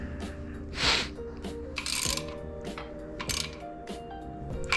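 Ratchet clicking in short bursts while bolts are driven into engine main caps during reassembly, with metallic clinks and a few louder taps between, close and moderately quiet.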